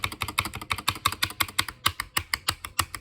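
Typing on a Dierya mechanical keyboard fitted with Gateron Black switches, a quick steady run of close, sharp clacking keystrokes heard alone.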